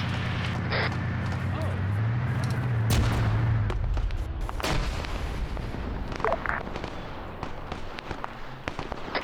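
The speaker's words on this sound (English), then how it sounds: "Frag grenade got us." A frag grenade explodes in a tactical police-operation video game, a sharp blast among scattered cracks and booms over steady game noise, with voices talking underneath.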